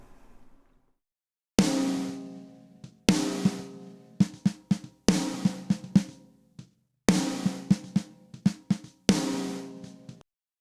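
A heavily compressed snare drum track, parallel-compressed in a drum mix, plays alone: punchy, sustained hits in repeating rhythmic groups, with bright, dense decays between strikes.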